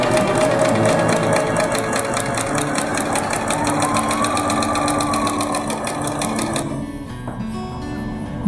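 A Bernina sewing machine stitches a seam in fabric for a child's bathing poncho, its needle running in a fast, steady mechanical rhythm up close for most of the stretch before stopping near the end.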